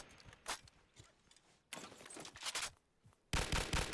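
A Call of Duty weapon mod in Gmod fires semi-automatic shots. Sharp single reports are followed by clustered bursts at moderate loudness.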